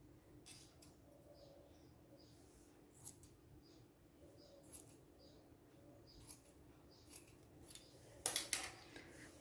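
Scissors snip through fabric while a kurti is being cut out, a series of soft, crisp cuts spaced a second or so apart, close and quiet, ending in a louder cluster of snips.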